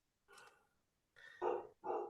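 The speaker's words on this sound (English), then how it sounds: "Who's barking?" A dog barks three times at close range: one bark, a pause, then two quick louder barks, with no talk over them.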